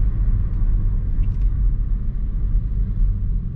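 Cabin of a 2016 Mercedes-Benz E350 with a 3.5-litre engine and a sunroof while driving, a steady low rumble of engine and road noise without talk.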